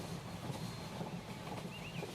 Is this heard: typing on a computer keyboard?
no